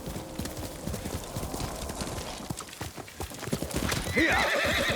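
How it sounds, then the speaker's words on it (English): Hooves clip-clop in a quick, irregular patter, then a horse gives a loud, shrill neigh near the end, in the video game Ghost of Tsushima. "Yuriko's horse. She can't be far."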